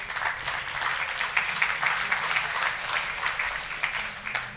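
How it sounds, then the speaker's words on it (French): A room full of people claps steadily for a table of workshop participants at a collaborative risk-prevention session, dense and sustained applause running throughout without pause or speech. "Et on peut même les applaudir et surtout les écouter."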